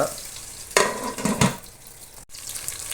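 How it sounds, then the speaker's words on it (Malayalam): Green chillies and onion frying in a pan for a fish curry, a steady close sizzle with a few louder stirring scrapes and a brief break near the end, no talk. "ഒന്ന് ആയി വരട്ടെ, പച്ചമുളകും ഉള്ളിയും എല്ലാം."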